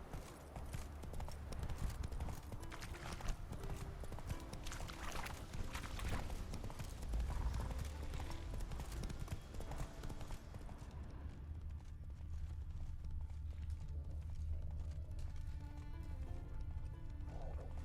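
Roach, a horse in The Witcher 3, gallops in a fast, continuous run of clopping hoofbeats that sound close and loud, with a faint voice briefly over the hooves.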